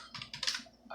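Typing on a computer keyboard while entering a Mac system definition, a close, quick burst of a few key clicks and taps with no talking.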